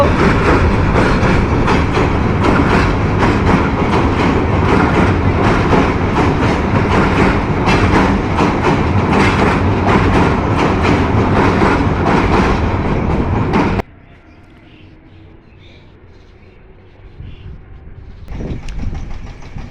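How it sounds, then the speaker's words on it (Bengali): A morning train crosses a bridge on a route toward Mymensingh, a loud, steady rumble and rhythmic rattle of wagons lasting most of the time before cutting to quiet outdoor ambience. "চমৎকার ট্রেনটি আজকে এই ব্রিজটার উপর দিয়ে চলে যাচ্ছে"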